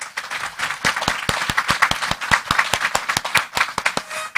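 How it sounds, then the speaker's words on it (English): Audience applause for mini grant recipients at an annual commission coffee event: a modest group clapping, individual sharp claps clearly distinguishable in an uneven, lively rhythm, fairly close. "please give a round of applause to our mini grant recipients"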